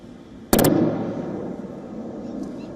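One loud, sharp bang of explosion or artillery fire near Jammu cracks suddenly, then a rumbling tail slowly decays into a steady background roar.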